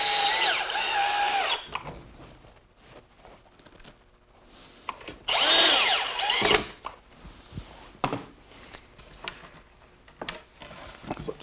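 A power drill drives pocket hole screws into a wooden table frame. It comes in two loud, close whirring bursts, with quieter clicks and handling taps between and after them.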